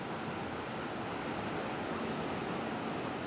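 Rushing water roars steadily at Cheonjiyeon waterfall on Jeju, a habitat of giant mottled eels, forming a dense unbroken wash of noise with no voices throughout.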